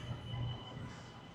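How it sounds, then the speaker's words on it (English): A Shenzhen metro train pulls into a station at night, a low steady rumble with a faint high whine, heard fairly quietly and alone. "the train arrives, not too full"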